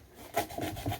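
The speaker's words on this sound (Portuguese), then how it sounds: "A gente tá tirando a palha, tá?" Husks are pulled off corn cobs by hand while making pamonha, producing dry papery rustles and rubbing crackles in quick, close, soft strokes.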